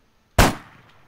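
A single loud, close gunshot in a video game after near silence, with a sharp crack and a short decaying tail.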